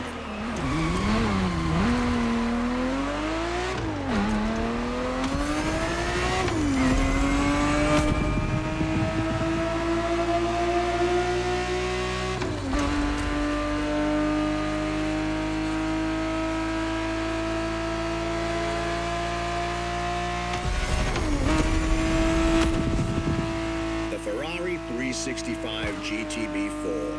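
A Ferrari 365 GTB/4 engine in The Crew Motorfest revs steadily and loudly throughout, its pitch climbing in repeated surges with brief dips between gear changes, then holding a sustained high drone.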